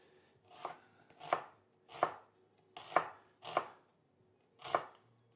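Six evenly spaced knife chops on a board as an onion is finely diced, each a crisp close thud with short gaps between, no talking.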